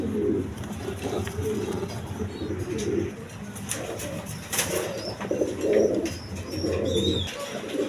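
Mumbai pigeons in a cage give repeated low, throaty coos in bursts, up close, with faint chirps and brief wing rustles.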